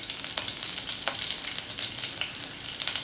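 Steady sizzling crackle of mustard seeds frying in hot oil with green chillies and curry leaves, small pops scattered throughout, close and fairly loud, no voices.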